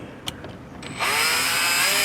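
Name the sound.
drill with 1/8 inch bit drilling pilot holes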